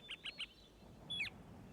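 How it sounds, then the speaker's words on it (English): Small birds chirp in a quiet setting: three short high chirps in quick succession, then a brief sweeping call, faint and somewhat distant. "He heard birds singing."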